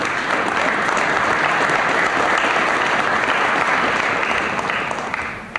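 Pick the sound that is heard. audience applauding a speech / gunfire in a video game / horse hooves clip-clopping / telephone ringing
audience applauding a speech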